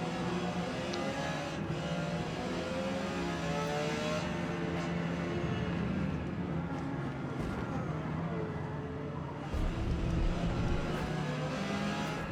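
A Porsche 956 prototype race car in Forza Motorsport laps the Hockenheimring in P class, its engine a loud, continuous drone with shifting pitch as it accelerates and brakes, with brief tonal blips and no voices.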